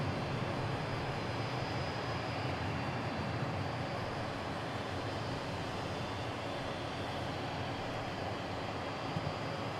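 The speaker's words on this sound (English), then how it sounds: "Is that the Amsterdam Emirates Cargo 777?" An Emirates Cargo Boeing 777 heavy jet at DFW produces a quiet, distant, continuous engine roar with a thin high tone running through it, steady from start to finish and free of speech.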